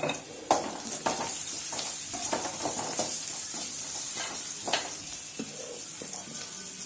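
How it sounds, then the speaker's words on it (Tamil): Onion, tomato, carrot and green chilli sautéing in a pan for a chutney, with a continuous close sizzle and hiss broken by spatula scrapes and occasional knocks against the pan, and no talking. "பார்த்தீங்கன்னா நல்லா வதங்கிட்டு இருக்கு"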